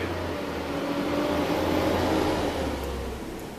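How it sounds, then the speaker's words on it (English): Recycling truck rolling past outdoors, a steady loud low rumble with engine drone that swells and eases slightly as it passes, no talking. "had to let the recycling truck drive by. They make a lot of noise."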